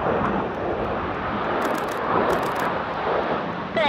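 Red Arrows display jets fly at the Wales Airshow, a loud steady roar of jet engines passing overhead with a few sharp crackles and no talk over it.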